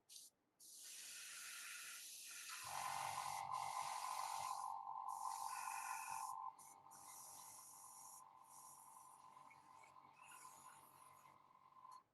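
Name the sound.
airbrush spraying paint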